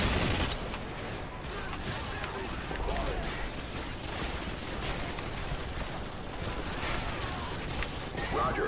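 AK rifle fire in the video game Call of Duty Modern Warfare 2, sustained and dense, with rapid overlapping bursts forming a loud continuous barrage, and voices faintly mixed underneath.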